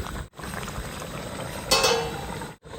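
Chicken masala gravy simmers in a covered pan over medium heat, giving a dense, close bubbling hiss with a brief louder bubbly burst partway through.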